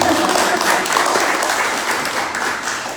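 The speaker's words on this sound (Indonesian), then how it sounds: "tepuk tangan lah pokoknya yang penting banyak" Audience applause at an Indonesian seminar talk, a dense, steady wash of many hands clapping that fills the space and slowly fades slightly toward the end, with no talking over it.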